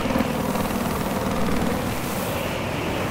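A helicopter in Battlefield 4 on the Gulf of Oman map gives a loud, steady rotor and engine roar with a fast chopping pulse, close and continuous, with no speech.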